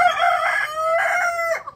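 Backyard hens and a rooster, a loud close crow stretched over most of the moment, with a second crow following and clucking mixed in, no talking.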